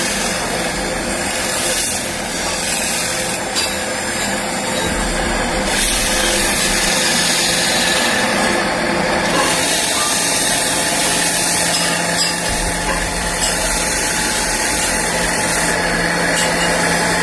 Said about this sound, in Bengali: এরপর আমরা সেই তাওয়ার সিটটিকে একটি ঘুরন্ত মেশিনের মধ্যে লাগিয়ে রেত দিয়ে পালিশ করে নেব।